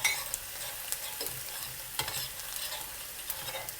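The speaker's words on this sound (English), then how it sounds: "Add in 1 whole bulb of garlic chopped. Remember to keep stirring them." Chopped garlic from a whole bulb fries in a clay pot and is stirred continually, giving a soft, steady sizzle broken by spatula scrapes and knocks at close range, with no voices.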